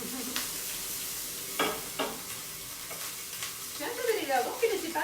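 Lardons and leftover dry pasta fry and brown in a pan for a frittata, a soft steady sizzle with a few scrapes of stirring and louder crackling toward the end, no voices.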